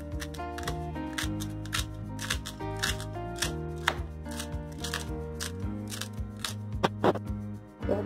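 Fresh mint leaves chopped with a knife on a board for kachori filling, a fast, steady run of crisp close taps repeating throughout.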